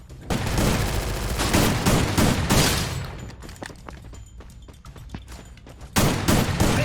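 Dense bursts of automatic gunfire from the Free Fire battle royale game, loud and rapid with overlapping shots and booms, easing briefly before another loud volley at the end.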